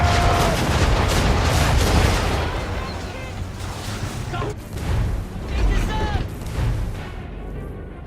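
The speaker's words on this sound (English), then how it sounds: "Broadside from the man of war!" A man-of-war fires a cannon broadside in the naval combat of Assassin's Creed 3, with heavy booms rolling out in a ragged volley amid battle noise while voices shout over the gunfire.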